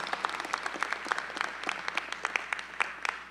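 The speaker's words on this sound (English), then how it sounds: "Please give the senior leaders of the administration another round of applause." Audience applause at a university matriculation convocation, a moderate crowd clapping steadily with distinct individual claps, heard from a short distance with no speech.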